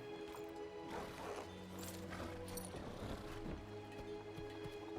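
Horse hooves clip-clop in Skyrim with the Lorerim mod, a near, steady run of hoof strikes over sustained tonal background music.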